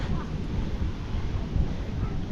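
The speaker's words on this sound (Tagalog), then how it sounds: "Kaso, lakas yung hangin." Strong wind on Siargao Island buffets the microphone with a low, uneven rumble, gusting loudly and continuously for a couple of seconds.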